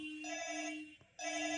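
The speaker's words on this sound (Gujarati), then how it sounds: "વાગ્યો ને ફોન." A toy telephone rings loudly in an electronic bell pattern, one continuous burst, a brief pause, then ringing resumes, close by with no talk over it.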